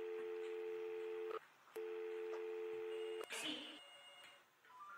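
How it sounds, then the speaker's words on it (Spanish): A telephone dial tone rings out steadily in repeated long tones with short breaks, followed by a brief burst of clicking and rustle as the handset is picked up to call a hospital; no one speaks. "Se dirigió al teléfono y llamó al hospital."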